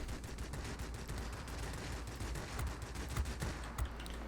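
Twin 23mm cannons on the Antonov M Masha aircraft in World of Warplanes fire rapid, continuous bursts of sharp reports, moderately loud, with a few heavier thumps near the end.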